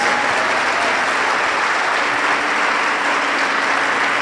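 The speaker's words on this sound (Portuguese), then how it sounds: "Vamos aplaudir a Jesus" A church congregation breaks into loud, sustained applause for Jesus during a sermon, a thick unbroken roar of clapping that fills the space without any voice over it.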